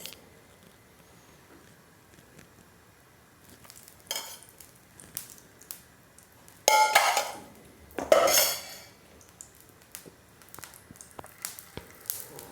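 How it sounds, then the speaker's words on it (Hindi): A pan set onto a gas stove clinks and scrapes, followed by bursts of sizzling as oil is poured in for frying, with quieter kitchen handling sounds between; close and moderately loud, no talking. "तो पैन रख दिया हमने गैस पर और इसमें थोड़ा सा तेल डाल देंगे।"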